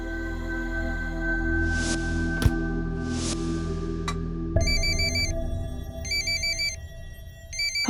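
A telephone ringtone plays repeatedly in short electronic bursts, preceded by quieter background noise and a couple of sharp clicks.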